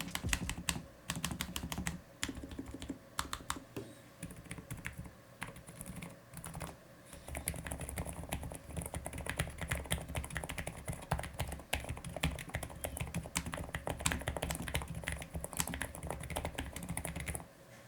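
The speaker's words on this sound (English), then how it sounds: "the typing experience remains one of the best I've experienced from a low-profile keyboard" Rapid, continuous typing on a low-profile mechanical keyboard, crisp close key clicks in an irregular rhythm with a brief pause partway through.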